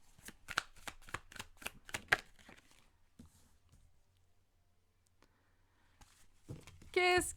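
Tarot cards being shuffled in quick, crisp riffling bursts for about two seconds, followed by a quiet stretch with faint taps and a brief voice near the end.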